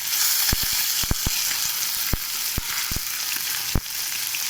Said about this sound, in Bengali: এক এক করে সব ভাজবো মাছগুলো।